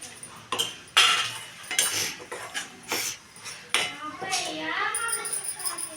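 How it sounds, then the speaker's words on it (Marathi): A spoon scrapes and clinks in a kadhai while stirring gram flour in oil for a spicy chicken rassa, making irregular metallic knocks with a person talking throughout. "असं चांगलं हलवून घ्यायचं"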